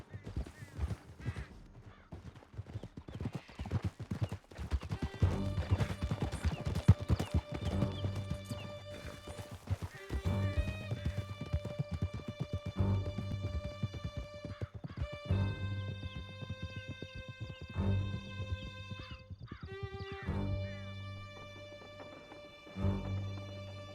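Horses galloping in Red Dead Redemption 2, with rapid clip-clop hoofbeats throughout, a whinny and scattered clatter, all over sustained tonal background music.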